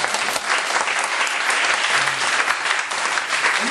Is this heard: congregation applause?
yes